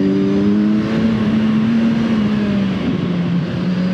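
A 2020 Kawasaki Ninja 1000 SX motorcycle engine pulls hard and loud and close, its steady rising drone holding throughout with no talk over it.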